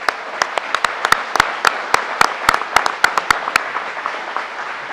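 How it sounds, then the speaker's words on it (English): A small indoor audience at a governor's announcement on gang violence in Rochester claps for several seconds. The individual claps are sharp, uneven and distinct, then thin out toward the end. "Let's give everyone a round of applause."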